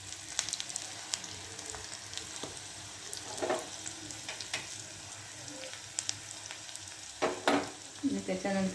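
A tempering of asafoetida and green chilli sizzles in hot oil with the gas turned off, giving a steady crackling fizz with sharp pops and stirring scrapes.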